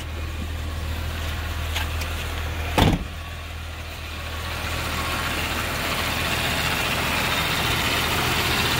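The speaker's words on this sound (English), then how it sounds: "let's back off the gas, see if she idles. Oh, yeah. That's all her, baby. Smooth idle." A 1999 Jeep Cherokee XJ two-door idles steadily at close range with a low, even engine hum, broken by one short clunk near the start, and no talking over it.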